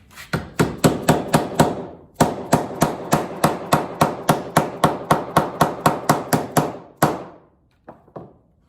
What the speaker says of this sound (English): And pound it in there.